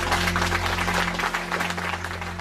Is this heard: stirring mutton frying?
no